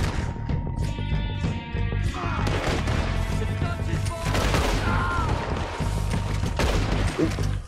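Scattered gunfire in Red Dead Redemption, repeated shots and cracks over a busy, layered game soundscape at moderate loudness, with no clear talking.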